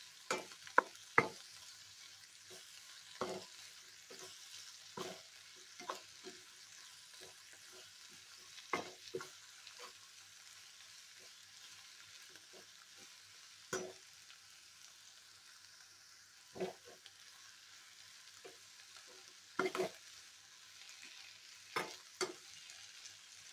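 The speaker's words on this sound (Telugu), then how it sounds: "ఆ పచ్చి వాసన పోయేదాకా వేపండి." Ginger, green chili and garlic paste fries in a pan for a brinjal curry, a quiet sizzle under repeated sharp scrapes and knocks of a spoon stirring at irregular intervals.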